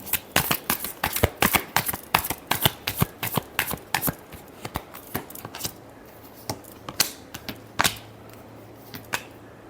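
A deck of tarot cards is shuffled close up in quick, crisp riffling bursts that repeat irregularly throughout, gradually spacing out toward the end, with no one speaking.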